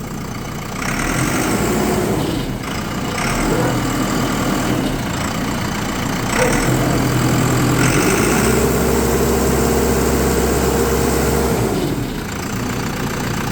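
After a fuel pump replacement, a vehicle engine idles loudly and evenly up close. It is then revved up and held at a higher, steady pitch for several seconds before settling back down.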